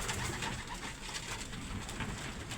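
Racing pigeons coo softly and repeatedly inside a basket, a steady close murmur of overlapping calls with rustling and no talk.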